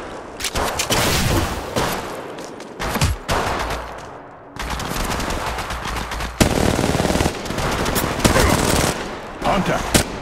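Rapid automatic gunfire crackles in long dense bursts in an Apex Legends battle royale match, loud and close, broken by short pauses and a reload gap, with a few brief callouts in the mix.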